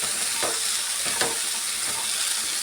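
Fried coconut and strained ingredients are stirred together in a hot pan, producing a soft continuous sizzle with a few gentle scraping strokes, close and even with no speech.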